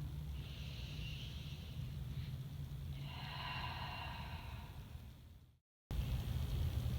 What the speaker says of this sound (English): Inhale and exhale.